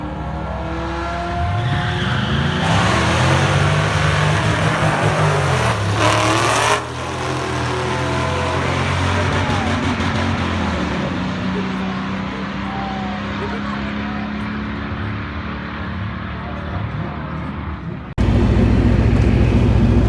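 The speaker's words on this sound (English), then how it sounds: "the thing spun the tires on the starting line. It spun the tires through second gear" An LS-swapped Mazda B2200 pickup launching at a drag strip, its V8 roaring loudly as the tires spin and squeal through the gears for many seconds, then an abrupt shift to a different, steady loud roar near the end. A person talks over it.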